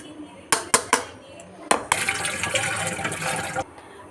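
Cold water splashes and pours over freshly strained chhana (cottage cheese) as it is rinsed for rasgulla, with a few sharp clatters first, then a steady running-water wash for about two seconds before it stops.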